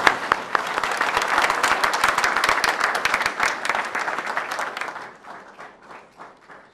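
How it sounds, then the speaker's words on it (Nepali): A church congregation claps steadily to welcome a pastor to the front, dense sustained applause that thins out and fades toward the end. "दाजुलाई हामी ताली बजाएर स्वागत गरौँ"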